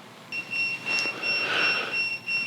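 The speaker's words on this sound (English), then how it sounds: "Once you hear the beeps, you'll know that the system is on." Thin electronic tones from an INNOVV RC6 motorcycle dash cam powering on sound steadily at two pitches, with a brief brighter beep in the middle, soft and close against quiet background hiss.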